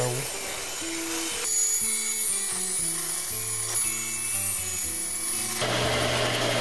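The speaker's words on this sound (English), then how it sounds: "bringing it over to the bandsaw and just cutting it down" A bandsaw cuts down a wooden 2x4 piece while building a memorial cross, giving a steady whirring drone with shifting tonal hums and a brief change in pitch near the end, close by and moderately loud, with no talking.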